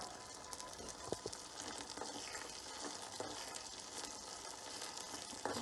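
Ginger and curry leaves fry in hot oil with a soft, continuous sizzle and crackle, faint and steady, with a couple of light utensil taps.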